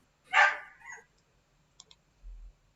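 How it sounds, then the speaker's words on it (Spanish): A dog gives one short, sharp bark up close, followed by a softer second yelp, a couple of faint clicks and a low thump, in an otherwise quiet room. "¿Qué quiere opinar el perro?"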